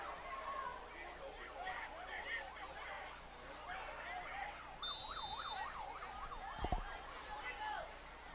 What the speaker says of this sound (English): Yeah, I hear the sirens.